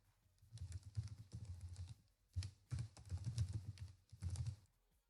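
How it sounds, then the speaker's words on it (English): Quiet bursts of typing on a computer keyboard, quick runs of soft clicks in four or five clusters separated by brief pauses, close and alone with no talking. "I will be using the Omnibox to type the direct link."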